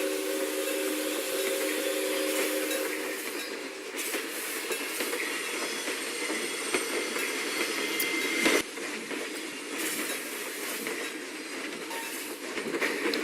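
A roller coaster train in Planet Coaster rolls along its track with a steady, rumbling clickety-clack and occasional squealing wheels. The sound is continuous and moderately loud, with a sharp jolt around the middle and no talking.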